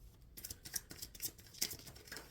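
Tarot cards are shuffled close up, giving soft, quick riffling and papery rustles in irregular little bursts, with no voices.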